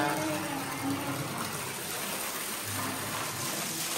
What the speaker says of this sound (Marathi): पाण्याला प्रेशर जास्त आहे.